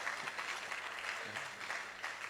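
Audience applause at a Rastafari conference, a steady wash of many hands clapping with faint voices mixed in, moderately distant.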